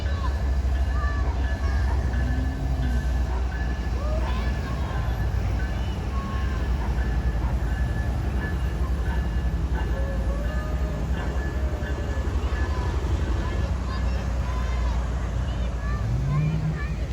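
A train making switching moves at a ceremonial event, a continuous low rumble with occasional squeals and clanks, under a background of crowd chatter.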